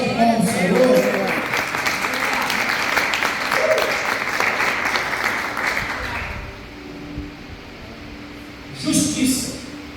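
A church congregation bursts into dense applause during a worship service, loud and sustained for about six seconds before fading to a murmur, with a voice speaking up again near the end.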